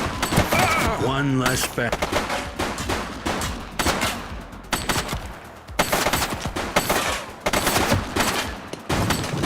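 Heavy gunfire in the police game The Precinct, dense rapid volleys and bursts of shots almost nonstop for nearly ten seconds, loud and close, with brief shouted speech mixed in.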